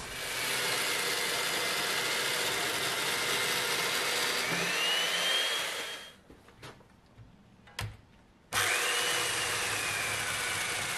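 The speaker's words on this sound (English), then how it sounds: "get those drilled out before we do the mortise" A drill bores peg holes through timber wind braces for a timber-framed greenhouse, a loud steady whine running for about six seconds, then a pause with a couple of clunks before the drilling starts up again.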